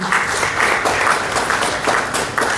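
A crowd at a Malaysian political gathering claps in a short burst of applause, fairly loud and dense throughout.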